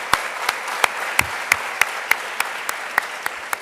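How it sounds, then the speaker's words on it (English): A scattered audience claps for MIT Chancellor Melissa Nobles at a women-in-innovation event, a moderate run of distinct, fairly regular claps over a steady room murmur. "clap for her, clap for her."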